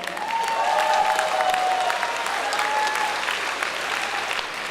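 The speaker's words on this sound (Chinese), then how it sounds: "再次给他们掌声鼓励" An audience at a live concert applauds, a dense and steady clapping that stays loud and even from start to finish.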